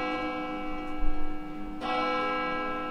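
A church bell sound effect rings with a sustained, ringing tone. Its level swells in the middle, and a second layer comes in about two-thirds of the way through. No one speaks.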